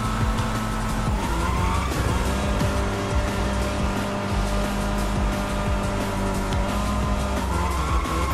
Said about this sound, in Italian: La derapata ricarica la propulsione.